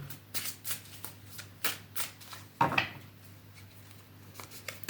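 Tarot cards being shuffled in several quick riffling bursts, crisp and close, with soft handling noises between them and no talking.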